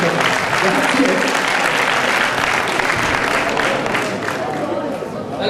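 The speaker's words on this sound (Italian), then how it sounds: "adesso si dedica anche Ilenia in piedi per ricevere questo caloroso applauso da parte di tutti gli amici della Vento" Warm applause from the crowd at a Veneto Cup cycling awards ceremony in Santorso as a recipient stands, a continuous, full clapping roar with light chatter mixed in, steady throughout.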